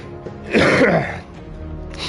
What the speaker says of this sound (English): I apologize in advance for this cough because it is not fun to listen to or to have.